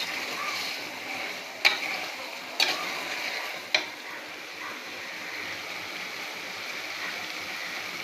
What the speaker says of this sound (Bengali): আমার সবজি ভুনা হয়ে আসছে।